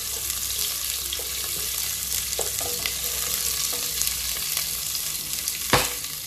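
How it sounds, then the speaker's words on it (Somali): Onions sizzle and fry steadily in a pan for vegetable biryani rice, a continuous close hiss with occasional stirring clinks and one louder scrape near the end. "hadartan waxaa sugeynaa inta basasha nooga soo shiilmi doonto insha Allah"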